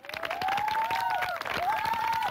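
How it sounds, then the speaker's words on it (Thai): Studio audience at a televised singing-competition results show bursts into brief applause with some cheering, a dense, loud wash of clapping while a sung or voiced tone runs over it. "ขอเสียงปรบมือให้กับกล้องอีกครั้งนึงนะครับ"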